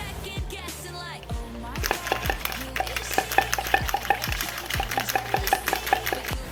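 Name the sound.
shaking a magnet shake flashlight with magnet in pipe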